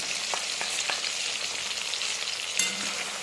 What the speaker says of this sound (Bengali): লঙ্কা পেস্টের সঙ্গে আমি জিরে ধনেটা মিশিয়ে নিয়েছিলাম। এটা আমি এখন ঢেলে দেবো।